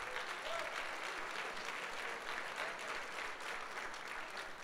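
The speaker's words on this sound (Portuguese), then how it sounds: "Pode aplaudir Jesus." Gathered pastors applaud Jesus at a church meeting, a continuous, fairly faint patter of many hands clapping, with a faint murmur of voices underneath.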